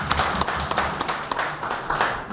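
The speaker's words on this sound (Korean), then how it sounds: "신동욱 의원님께 수고하시라고 감사의 박수 한번 드리겠습니다." A short burst of thank-you applause from a Korean policy forum audience, dense overlapping hand claps at moderate volume, continuous for a couple of seconds with no speech over it.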